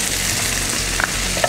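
Butter sizzles and fries in a hot pan, a loud, dense, continuous hiss with a few small pops and stirring clinks, with no talking over it.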